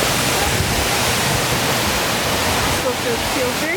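Steady broadband roar of a waterfall in the Columbia River Gorge area, loud and continuous throughout with no pauses or voices.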